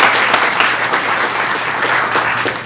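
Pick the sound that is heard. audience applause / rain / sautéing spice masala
audience applause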